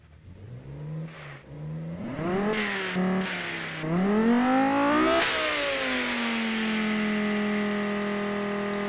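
A 3.5-litre naturally aspirated V10 in a van revs hard, its pitch climbing and falling across several throttle blips before it settles into a steady, loud, smooth idle. It is close and powerful, with no talking.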